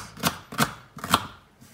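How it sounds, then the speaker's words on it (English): A knife cutting fresh ginger into small slices on a board, three crisp close chops in an even rhythm followed by a quieter fourth. "After you clean all the station, the next step is to cut the ginger."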